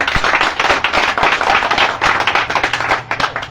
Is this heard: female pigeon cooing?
no